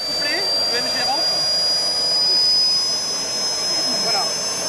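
An Aérotrain jet engine spins up and heats, a loud steady roar with a piercing high whine running throughout, while someone talks over it.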